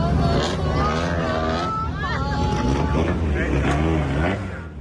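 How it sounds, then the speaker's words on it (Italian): Classic Lancia Delta rally cars roar at a gathering, their loud engines revving with rising and falling harmonic tones close by, a sharp upward sweep partway through, with people talking underneath. "Il rombo delle Lancia Delta"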